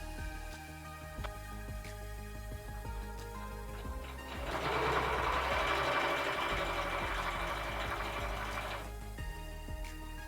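A sewing machine stitches a fabric face mask, starting with slow, separate clicks and then breaking into a fast, steady mechanical whir for several seconds before easing off, close and clear with no voices.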